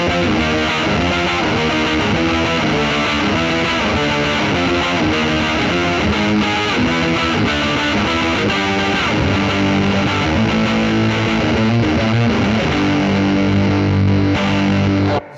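Electric guitar played through a JHS PackRat distortion pedal, a dense, saturated, loud distorted tone with heavy low end, continuous chords and riffs alone without talk.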